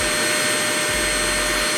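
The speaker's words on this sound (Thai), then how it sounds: "กดอีกหนึ่งที่" A Deerma VC811 cordless vacuum running at maximum suction, its motor producing a steady close-up whooshing roar of rushing air with a low hum that swells in the second half, no voices over it.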